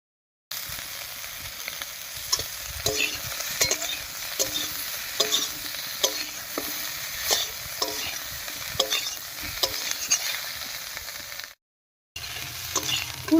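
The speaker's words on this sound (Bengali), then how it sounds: "ফোড়নের উপরে ফুলকপি আর আলুটা দিয়ে একটু নাড়িয়ে নিয়েছি" Cauliflower and potato pieces fry over a tempering of spices in a pan, a steady sizzle broken by regular scraping strokes of stirring, close and loud, with a brief gap near the end.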